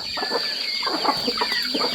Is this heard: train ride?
no